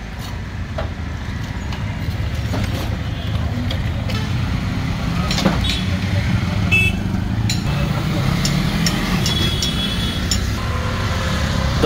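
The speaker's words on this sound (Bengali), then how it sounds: "গাড়ি কীভাবে তার সতর্কতার সাথে নামতেছে" Vehicles inch carefully down a badly damaged road in Karotia, Tangail, with a steady traffic rumble and engine drone throughout, scattered knocks and clatter, and faint voices in the background.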